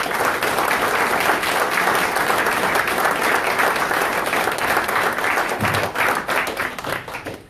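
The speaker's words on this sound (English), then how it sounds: "I'd like to give a round of applause." Steady, dense applause from an audience at a city council debate, loud and continuous for several seconds before tapering slightly at the end.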